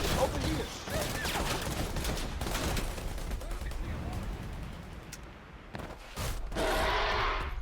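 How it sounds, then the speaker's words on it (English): Rapid assault rifle fire in a video game, with dense bursts of small-caliber shots and impacts running almost throughout, loud and busy, with brief quieter gaps. "so that looks like multiple, it could be multiple assault rifle hits."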